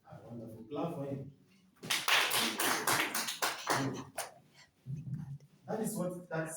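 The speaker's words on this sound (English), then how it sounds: "Clap for him." A classroom applauds a student during a matrices lesson, with a dense burst of hand claps lasting about two seconds between stretches of a teacher's voice.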